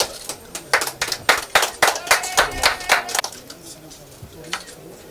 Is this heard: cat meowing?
no